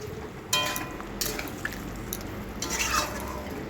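A spoon stirs vegetables in a pot after the blended spice-paste water goes in, giving several wet scraping and clattering strokes with faint dripping and liquid sloshing in between.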